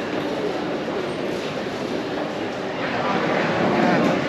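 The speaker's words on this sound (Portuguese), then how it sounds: "o metrô acho que sai" A Milan metro train departs, rumbling and hissing along the tracks in an echoing station, the noise swelling slightly toward the end.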